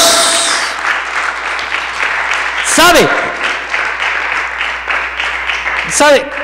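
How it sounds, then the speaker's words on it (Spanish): A church congregation claps along in praise during a Spanish-language sermon, a steady broadband patter of many hands running under a preacher's voice, with brief swooping tones cutting through twice. "¿Cuántos le pueden dar unas palmas a la gloria de Dios?"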